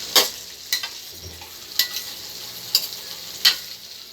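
Tofu for tokwa sisig fries in melted margarine with a steady, soft sizzle, broken by several sharp scrapes of a utensil stirring the pan at roughly regular intervals.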